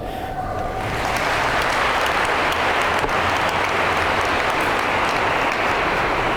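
Audience applause at a police academy graduation ceremony: dense, sustained clapping from a large crowd that swells quickly and holds steady throughout.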